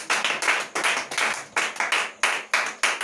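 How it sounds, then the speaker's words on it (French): A church congregation claps for Jesus in a steady rhythmic beat, about ten sharp, even claps close and loud with no voices. "Let's clap for Jesus."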